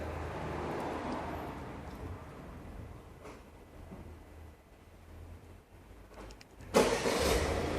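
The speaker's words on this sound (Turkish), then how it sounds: "Çalıştırın aracı." A Peugeot 3008 engine turns over and catches with a sudden loud burst near the end, then settles into a steady running rumble after a stretch of low, even background noise.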